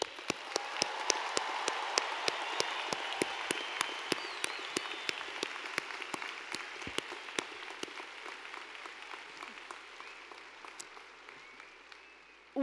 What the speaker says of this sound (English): Let's everyone join in a round of applause to honor and congratulate today's honorees